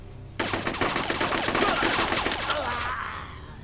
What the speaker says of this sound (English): Machine gun actually does, like, an AoE.